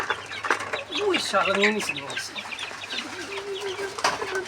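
Farm chickens cluck and squawk while eating noodles at close range, with someone talking over them throughout.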